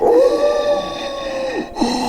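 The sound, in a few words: dogs howling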